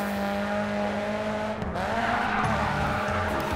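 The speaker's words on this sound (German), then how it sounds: "Schon wieder so ein perfekter Drift und dann noch innen vorbeigezogen direkt" Race car drifting in the video game GRID 2, a loud droning engine with tonal tire squeal sliding and bending in pitch midway as the car holds the drift.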